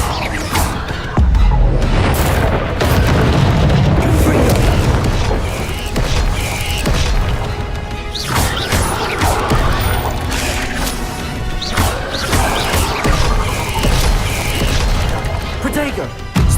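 In Hogwarts Legacy, a Bombarda spell explosion bursts amid dense, constant combat noise: repeated crashing impacts, mechanical clatter and booms layered over game music, with a voice speaking during the fight.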